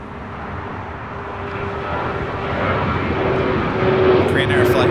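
An American Airlines airliner roars on its takeoff run from runway 25 right at LAX, a loud, broad engine rumble that swells steadily, with a voice talking faintly over it.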